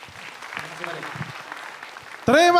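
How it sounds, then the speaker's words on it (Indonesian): A studio audience at the SUCI stand-up comedy semifinal claps softly beneath a speaking voice, then a bright musical tone cuts in at the end. "beri tepuk tangan sekali lagi untuk Eza dan juga Mukmin"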